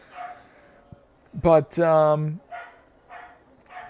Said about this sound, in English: apologies of the barking of dogs in the background